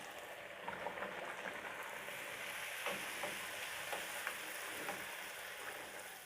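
Puri bubbles and sizzles steadily in hot oil for Puri Masala, a dense crackling hiss with soft stirring clicks, close and continuous.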